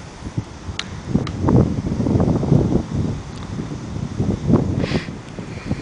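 Strong, gusty wind buffets the microphone on a cliff above a paragliding launch site at Alcudia, Mallorca, a loud, continuous rumbling roar that swells and eases, with no clear voices.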